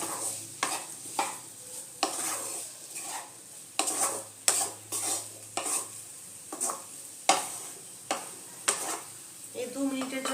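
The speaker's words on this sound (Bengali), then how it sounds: "মশলার সাথে এগুলো আলু, ইঁচড়, চিংড়ি মাছ এগুলো একটু ভালো মতো আবার একটু কষিয়ে নেব।" Potatoes, raw jackfruit and prawns are stir-fried with spices in a pan, with repeated rhythmic scraping strokes and utensil knocks over a continuous close sizzle.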